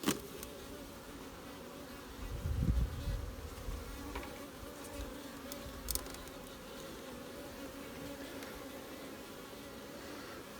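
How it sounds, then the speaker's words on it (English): Honey bees buzz steadily around a mini nuc hive, a continuous close hum with a few louder swells as bees pass near. "A few bees in this one."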